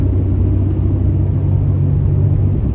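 A Cummins diesel tow truck pulls through the gears with the torque converter locked in fourth, a loud steady low rumble from inside the cab, continuous and even, with no talking heard.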